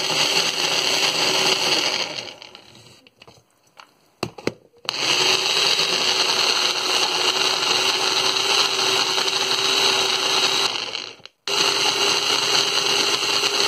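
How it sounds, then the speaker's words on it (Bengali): A blender purees mango for mango mousse with a loud, steady motor whir that stops and restarts twice with brief pauses. "ব্লেন্ড করে নিচ্ছি।"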